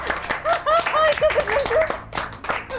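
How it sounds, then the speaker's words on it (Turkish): A small group of people claps in scattered, uneven bursts in a studio setting, with a voice speaking over the applause. "Kız niye alkışlıyorsunuz?"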